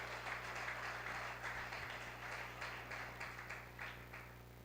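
A church congregation applauds, a dense continuous patter of many hands at moderate distance over a low steady hum, holding steady and easing slightly toward the end.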